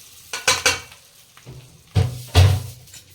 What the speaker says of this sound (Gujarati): આ રીતના આપણે વઘાર રેડી દઈશું